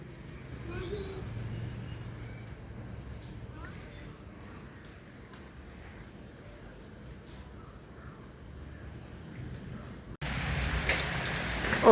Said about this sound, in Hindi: बारिश बहुत हद से ज़्यादा तेज़ हो गई